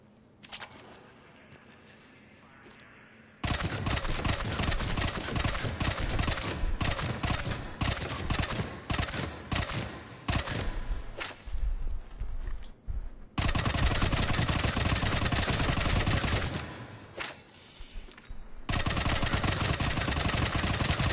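Tempest submachine gun from Mass Effect 3 firing on full auto at a target range, loud sustained bursts of rapid shots after a quiet opening, briefly pausing between strings of fire.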